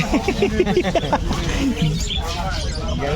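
Parakeets chirp at a pet market in Malabon, a busy flurry of short, high tweets close by that fades toward the end, with someone talking over the birds.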